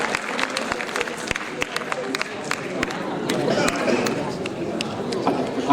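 Dense applause from a crowd, many hands clapping steadily and building slightly, with sharp individual claps standing out near the front.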